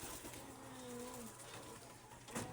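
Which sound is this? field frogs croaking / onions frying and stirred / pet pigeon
pet pigeon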